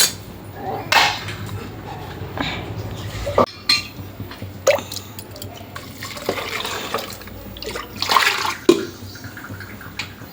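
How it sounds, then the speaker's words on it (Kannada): Water runs and splashes into a metal cooking pot with a steady pour, broken by a few clanks and knocks of cookware. "ನೀರು ಹಾಕೋಬೇಕಲ್ಲ, ಇಷ್ಟ ಸಾಕು."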